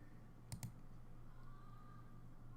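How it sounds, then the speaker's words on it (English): Two sharp keyboard key clicks close together, fairly near, over a steady low hum and faint background noise, with no speech. "Why are you typing this?"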